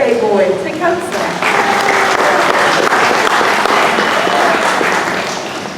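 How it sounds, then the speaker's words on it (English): An audience at the Dollywood Wings of America birds of prey show breaks into loud, sustained applause after someone speaks briefly into a microphone, the clapping fading slightly toward the end. "how about a round of applause for our birthday boy, Tecumseh."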